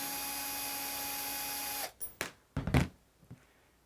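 Power screwdriver whirring steadily as it backs out the inside trim screws on a Schlage BE365 keypad deadbolt, then cutting off, followed by a few short clicks and knocks as the trim is handled.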